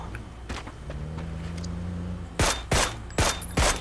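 Gunfire in the PUBG battle royale game: a few distant pops, then four loud close shots in quick succession over a low vehicle engine hum.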